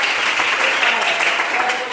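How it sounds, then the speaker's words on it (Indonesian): A classroom full of people clapping together, steady and dense applause lasting the whole moment, fairly loud and close. "Hebat, tepuk tangan kuat."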